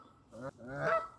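Canada geese honking in a brief, loud outburst, several nasal calls rising in strength as the birds are chased by dogs during an outdoor walk.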